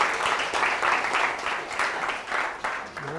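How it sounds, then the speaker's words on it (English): An audience at a conference talk on Ethereum applauds, a dense, steady wash of many hands clapping together that holds for a few seconds. "These are a round of applause from all of us."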